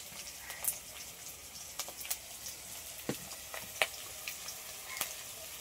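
Chopped onion fries in a pan for a para fish dish, giving a steady close sizzle with scattered sharp pops and crackles throughout, no voices.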